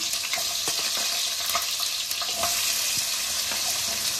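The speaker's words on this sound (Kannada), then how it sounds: "ಈರುಳ್ಳಿ ಒಂದು 30 ಸೆಕೆಂಡ್, ಒಂದು 30 ಸೆಕೆಂಡ್ವರೆಗೂ ಚೆನ್ನಾಗಿ ಈರುಳ್ಳಿ ಫ್ರೈ ಆಗಲಿ." Chopped onion frying in oil with spattering mustard seeds and cumin for hesaru bele kichidi, a dense steady sizzle with light clinks of stirring, no voices.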